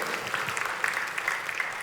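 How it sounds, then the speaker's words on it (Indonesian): A church congregation claps in a short, lively burst of applause, dense and fairly close, with a few scattered voices. "Tepuk tangannya boleh yang paling meriah buat Tuhan kita."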